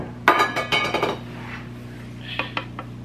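A spoon stirs salmon croquette mixture in a bowl, with a quick run of bright metallic clinks against the bowl followed by a few lighter, sparser taps.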